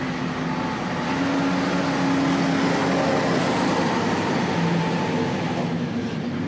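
A heavy vehicle delivering gravel to a French farm house rumbles steadily and loudly with a constant low engine drone, nearby and unbroken throughout.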